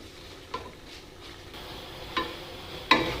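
Gram flour (besan) stirred and slowly roasted in a pan for besan barfi, with soft scraping strokes of a spoon and a few sharper clinks against the pan, close and alone without talk.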